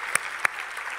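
A hall of fame ceremony crowd claps in a short burst, a rapid patter of applause with a couple of sharper claps standing out, heard from a distance in a large hall.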